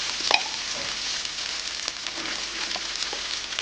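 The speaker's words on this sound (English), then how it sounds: "I added some mustard seeds. I forgot to film it, which is why you can hear all that popping and spitting." Mustard seeds pop and spit in a hot pan during the making of a butter chicken sauce, a steady close sizzle scattered with sharp crackles and one louder pop near the start, with no voices.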